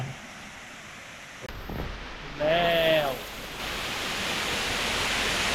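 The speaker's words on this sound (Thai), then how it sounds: "น้ำตกข้างทาง" Steady broadband rush of a roadside waterfall near Doi Suthep in Chiang Mai, a continuous watery hiss filling the scene, with a brief whistling tonal sound rising over it midway.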